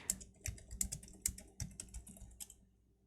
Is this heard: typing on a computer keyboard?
yes